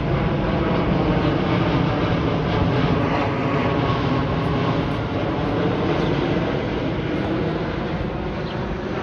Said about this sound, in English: It's a Dreamliner. It's a United Dreamliner.